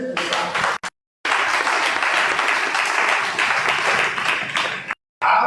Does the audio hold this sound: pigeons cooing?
no